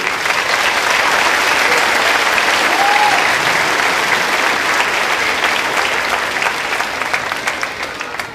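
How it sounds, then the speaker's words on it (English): A large crowd at an eighth grade promotion ceremony applauds loudly and continuously, the clapping holding steady before beginning to fade at the end. "Please, a round of applause for the parents and family members."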